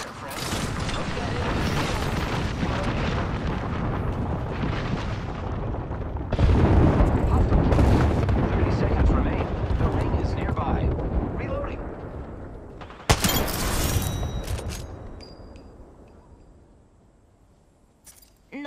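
Dense, sustained gunfire with heavy rolling bursts fills an Apex Legends match, close and loud for most of the stretch, with one sharp blast near the end before it fades toward quiet.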